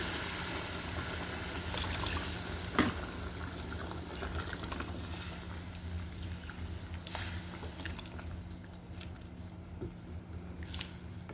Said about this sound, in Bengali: তাই আমি এখন দিয়ে দেবো ঝোল